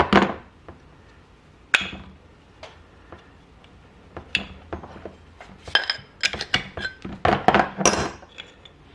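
Small metallic ticks, clinks and taps as brake pads are slid out of the front caliper of a 2014 Suzuki GSX-R 750, sparse at first, then busier and louder in a quick run of light clatter near the end.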